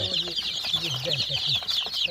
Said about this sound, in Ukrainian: Ось дивіться, які тут різнокольорові курчатка.